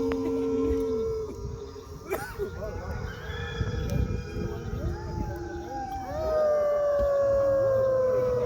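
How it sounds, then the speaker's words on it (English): A chorus of wolf howls rises and falls in long, overlapping wavering tones within an illuminated night walk in Montreal, mixed with a steady background hum and faint ambient sounds, moderately loud. "Listen closely to the wolf's chorus"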